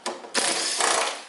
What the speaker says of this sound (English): about to use my trusty Makita electronic screwdriver here